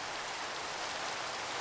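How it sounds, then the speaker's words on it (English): Steady, soft rain forms an even wash of noise, a faint continuous patter with no distinct drops standing out. "great, rain."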